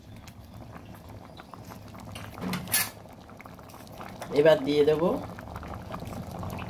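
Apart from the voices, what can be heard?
chana dal boiling in a pot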